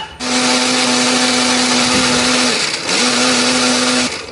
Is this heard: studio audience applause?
no